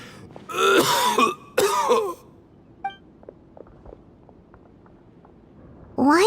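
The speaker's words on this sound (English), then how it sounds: "Why is he coughing so much?" A male character in the video game Genshin Impact coughs and clears his throat in two harsh, rasping bursts, close and loud, then falls quiet apart from soft ambient ticks before another rough cough starts at the end.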